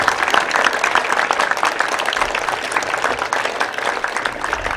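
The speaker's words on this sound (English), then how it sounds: "put your hands together for your staff members. A loud round of applause." Seated students at a school event applaud in a dense, sustained round of clapping that stays loud and even throughout.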